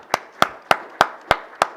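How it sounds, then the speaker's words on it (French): Six sharp, evenly spaced claps ring out close and loud at a church service, a single person's hands beating a slow steady rhythm with quiet gaps between each clap. "J'aimerais juste qu'on l'applaudisse, Jésus-Christ, lui donne une ovation"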